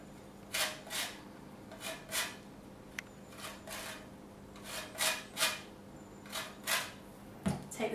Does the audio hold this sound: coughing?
no